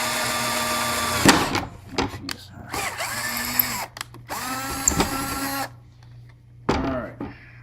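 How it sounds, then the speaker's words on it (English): Power drill boring four holes for a Triton TRA001 router installed in a Kreg precision router table, with several whining bursts that spin up and wind down, separated by short pauses and clicks. "So there's our 4 holes drilled."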